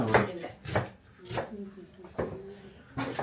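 Onions being chopped with a knife on a board at home, a few firm spaced knocks mixed with quieter scraping, under a voice talking nearby.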